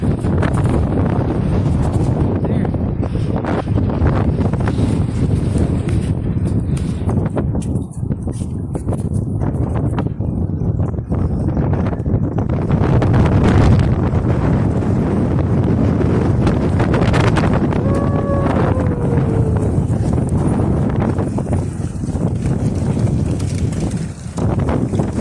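Heavy wind during a sandstorm in Riyadh, Saudi Arabia: a loud, unbroken roar of wind buffeting the microphone for the full 25 seconds, with voices mixed into the noise.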